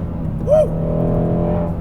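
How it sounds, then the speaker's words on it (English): Ford Mustang GT350R on track with a brief snarling engine note rising and falling, then a steady loud drone with wind rumble, heard from inside the car. "There's the snarl, right? You hear the snarl more in quiet mode."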